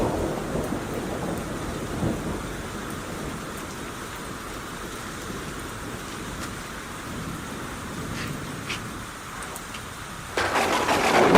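Heavy rain falls steadily with rumbling thunder, a constant hiss of downpour layered over low, rolling booms, and the rain surges louder near the end.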